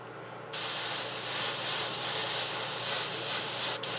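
A Timbertech airbrush spraying, a loud, steady, close hiss that starts abruptly and runs on with a brief break near the end.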